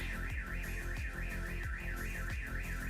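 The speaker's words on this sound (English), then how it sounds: "Hold for the car alarm." A car alarm wails in a repeating rising-and-falling electronic siren pattern, cycling rapidly and steadily throughout, heard from a moderate distance.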